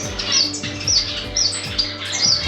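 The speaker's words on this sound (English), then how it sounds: "Down here I have my pair of red-headed finch." A pair of red-headed finches chirps in a home bird room, with a repeating series of short, bright tweets at a steady pace over a low background hum.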